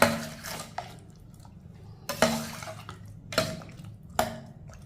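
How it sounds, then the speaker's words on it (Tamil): Vegetable soup being stirred in a pot with a utensil, four distinct scraping clinks against the pot at uneven intervals over a low watery slosh, close and fairly loud. "எல்லாத்தையும் நல்லா மிக்ஸ் பண்ணிடுவோம்."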